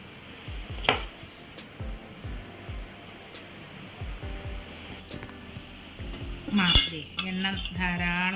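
Metal spoon clinking against a bottle while dried mango pickle (unakka manga achar) is spooned in bit by bit, a steady run of close, light taps and scrapes, with a louder clatter near the end.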